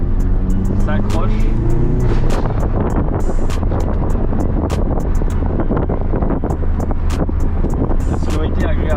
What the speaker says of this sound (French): La sonorité est agréable aussi. Un peu grave avec le petit pop.